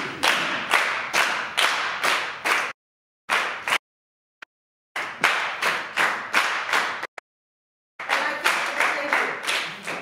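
An audience claps along in a steady triplet rhythm, counting one-two-three, with crisp close hand claps in repeating groups broken by a few short silent pauses.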